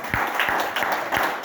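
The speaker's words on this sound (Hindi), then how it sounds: "जोरदार ताली हो जाए।" Audience at a network marketing seminar clapping in short rhythmic bursts, several sharp claps in steady time, fairly close and loud.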